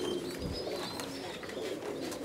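Racing pigeons cooing softly in a loft, low repeated coos with faint chirps and rustling, with no talk.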